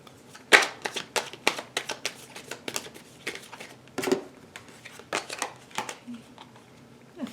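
Tarot cards riffle and snap together in quick, repeated bursts, close by in a quiet room, with a few soft pauses between shuffles.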